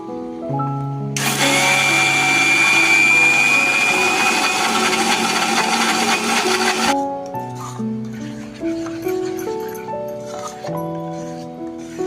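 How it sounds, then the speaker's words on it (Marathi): A mixer grinder whirs loudly for about six seconds, grinding soaked rice and urad dal with a little salt into appe batter. Background music plays underneath and carries on alone after the motor stops. "मिक्सर मध्ये बारीक करून घेऊया"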